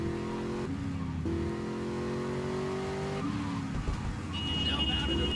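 A Mercedes car in GTA Vice City drives steadily with a continuous engine drone and a few gear-shift pitch steps, moderately loud, with a voice talking over it.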